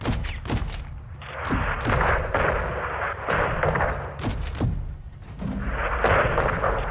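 An AC-130 gunship in the video game Modern Warfare 2 fires on a convoy, with loud booming cannon shots repeating at irregular intervals and deep thuds and rumbling impacts in between.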